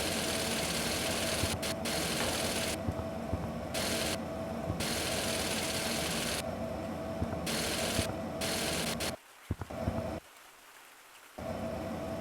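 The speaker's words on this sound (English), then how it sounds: "Alright, here's the sander. If I go like this." A spinning sander in a construction video game, a loud steady mechanical whir and rumble that runs continuously for several seconds and then stops abruptly in short gaps before resuming.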